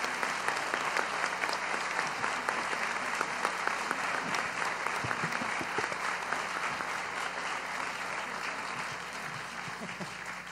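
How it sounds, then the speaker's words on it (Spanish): An audience at a talk claps in sustained, dense applause, a steady wash of many hands that carries on evenly and fairly loud throughout, with no voices standing out. "un aplauso para Frida, enorme"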